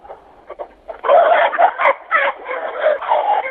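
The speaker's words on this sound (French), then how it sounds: "je suis dans mon poulailler au milieu des poules" Hens cluck and squawk close by inside a henhouse, a loud, busy burst of overlapping calls that swells into continuous agitated clucking.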